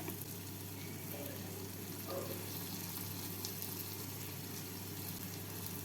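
Egg masala with fresh cream and kasuri methi is stirred in a pan, giving a steady, even sizzle with faint scraping that runs unbroken throughout.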